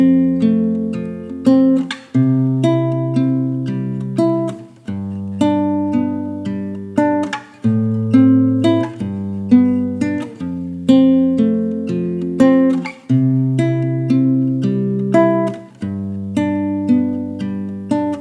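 An acoustic guitar plays the B section of a song, repeating plucked chord patterns and arpeggiated notes in an even, looping rhythm, close and clear with no talking.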